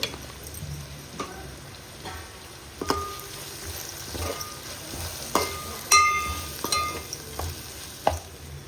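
Tomatoes with a half spoon of turmeric cooking in a pan, with a low sizzle under repeated scraping and clinking of a spoon stirring, sharper knocks coming every second or so.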